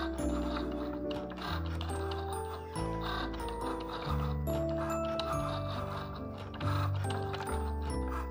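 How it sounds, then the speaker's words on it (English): A Cricut Joy cutting machine cuts a skin for a Samsung S24 Ultra phone, giving a close, steady run of stepping whirs and mechanical ticks that shift in pitch as the cutter moves. "I let my CRICUT Joy set up my skin. And then after that, all you have to do is just to click go."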